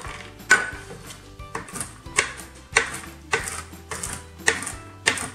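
A knife chops walnuts on a cutting board with about ten crisp, evenly spaced strikes, close and clear with no talking.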